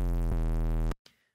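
A Serum synth bass, a sine wave distorted through Trash 2 at its default settings, holds one buzzy, harmonically rich tone for under a second and then cuts off abruptly, leaving a short faint tail.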